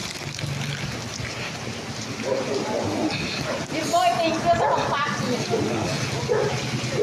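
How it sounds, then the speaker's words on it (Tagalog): Heavy rain pours down steadily with a dense hiss and splatter in Lebak, Sultan Kudarat, while people talk and call out over it. "Pero malakas ang ulan."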